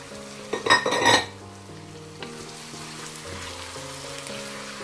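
Tomato goes into a homemade Eritrean chicken curry frying in a pot, setting off a loud burst of sizzle that settles into a quieter, steady simmer with faint stirring.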